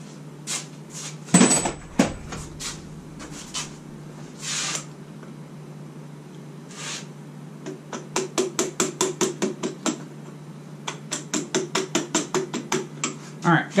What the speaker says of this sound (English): So let me get a little hammer and abuse it some more.